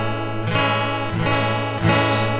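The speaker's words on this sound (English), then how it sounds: "but then I can have chorus like this." Electric guitar run through a cheap multi-effects pedal set to chorus, a sustained strummed chord with a shimmering, wavering tone, re-struck about every second, loud and close with no talking.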